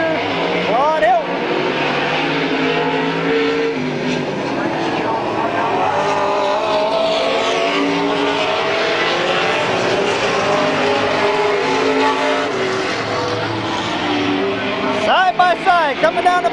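Race cars roar around the oval at Midvale Speedway in 1995, a dense continuous engine drone from the pack with a brief tire squeal near the end, loud and steady under a race announcer's running commentary.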